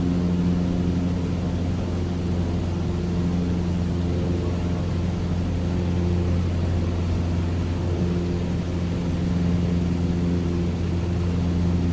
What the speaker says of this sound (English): I'm going to pay close attention to the sound of the engine.